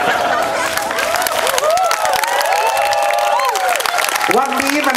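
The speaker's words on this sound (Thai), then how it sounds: "ขอเสียงเชียร์ให้กับคุณสุริศหน่อยครับ" A crowd at a Thai stage event cheers and claps for a man named Surit, a sustained burst of applause and shouting with excited voices calling out over it, loud and close throughout.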